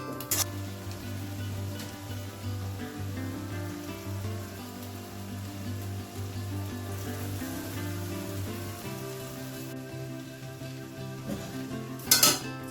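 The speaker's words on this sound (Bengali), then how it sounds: "পেঁয়াজটা ভাজা করতে বসিয়ে দেবো।" Potatoes and onions fry in a home kitchen pan with a steady sizzle, joined by scraping utensils and clinking cookware, plus a brief louder clatter near the end.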